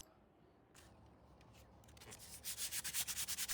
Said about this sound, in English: So I did some light sanding.